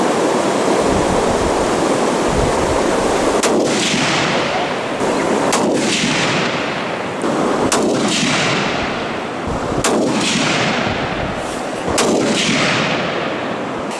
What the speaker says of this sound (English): We banged the rifle on the walk in here, so we had to sight it in and make sure it was shooting straight